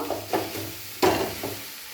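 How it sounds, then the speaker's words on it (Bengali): Spice masala for ghugni being stir-fried in a pan, with a few scraping stirs and a soft sizzle, one louder scrape near the middle, close and fairly loud with no talk. "মশলা ভালোভাবে কষিয়ে নেব।"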